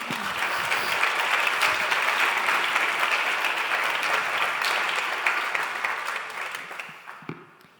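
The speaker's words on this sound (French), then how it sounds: "Et on peut les applaudir aussi." Audience applause at a French digital-industry award ceremony, a full sustained round of clapping from a sizeable crowd that gradually thins out and trails off.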